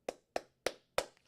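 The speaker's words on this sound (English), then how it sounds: "Let's give it a round of applause on BullRush" Four crisp, close hand claps in an even rhythm from a single person during a livestream, loud and isolated against silence, followed by a couple of faint taps.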